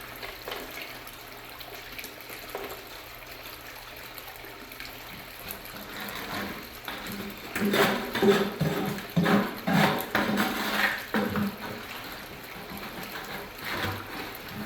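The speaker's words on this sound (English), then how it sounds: "I will try this header box with a bigger pump and see if we can force more water through it" Water rushes and splashes steadily through a sluice box header, growing louder and more turbulent midway as a bigger pump forces it through, with gurgling surges before easing slightly.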